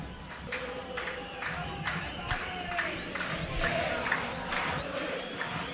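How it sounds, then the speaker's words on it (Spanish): All Boys football fans in a stadium crowd chant and clap in a steady rhythm, with repeated bursts of claps and voices that keep up a lively, even beat throughout. "los hinchas de All Boys ahora alientan, y cantan por su equipo"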